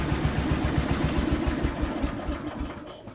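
A tractor engine idles during cool down, a steady low chugging pulse with even firing beats that softens slightly toward the end.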